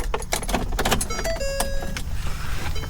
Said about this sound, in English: It does have a window switch. Let me see if it works.